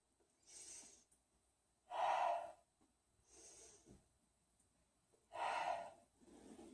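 Slow deep breaths taken while holding a yoga warrior pose: four or five long airy inhales and exhales in an even rhythm, close to the mic and clearly audible against silence.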